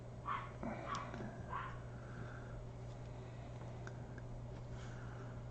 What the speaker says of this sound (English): My dog has decided to bark outside.